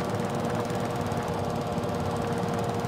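A mowing machine's engine from Farming Simulator 22 drones steadily at close range, a dense, unbroken mechanical roar with a rough, rattling texture and no pauses.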